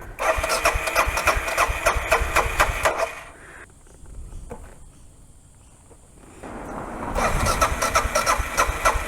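A motorcycle engine with fuel not reaching it cranks and sputters to life in repeated rough bursts, dropping to a brief lull before revving up again loudly.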